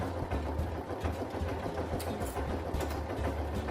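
Sewing machine running steadily while stitching a seam close to the fold on a clear plastic organizer bag, a continuous mechanical hum with a low motor drone throughout and slight rhythmic variation.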